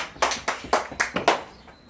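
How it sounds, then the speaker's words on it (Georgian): Five sharp hand claps come close by in an even, quick rhythm, clapping to call a small child, and then stop. "შენ ტაში უნდა დავკრო და ტაშით მოვა"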